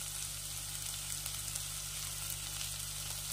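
Spiced egg cutlet masala with cumin, chilli and turmeric powder fries in a pan, giving an even, continuous hiss-like sizzle under a faint low electrical hum, with no one speaking.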